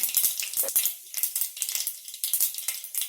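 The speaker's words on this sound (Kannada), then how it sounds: "ಎಣ್ಣೆ ಬಿಸಿಯಾದ ನಂತರ ಸಾಸಿವೆಯನ್ನು ಹಾಕೊಳ್ಳೋಣ ಸ್ವಲ್ಪ ಜೀರಿಗೆಯನ್ನು ಹಾಕೊಳ್ಳೋಣ" Mustard seeds, cumin and green chillies crackle and sizzle in hot oil, a dense close spatter of sharp pops and hiss running steadily throughout.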